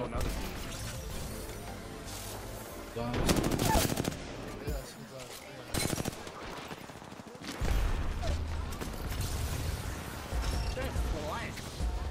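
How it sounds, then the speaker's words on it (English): Apex Legends gameplay gunfire: bursts of rapid automatic shots and single cracks come in waves over game sounds, with people talking. "he's shooting"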